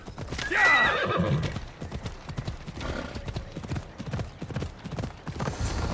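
A horse whinnies loudly near the start in the video game Assassin's Creed Odyssey, followed by a steady series of hoof clip-clops, with a second softer whinny midway.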